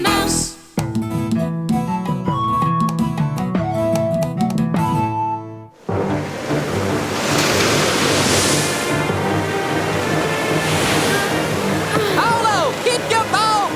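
A cartoon boat rides out heavy seas: a steady wash of ocean waves and surf roars loudly and continuously, coming in after an opening stretch of music.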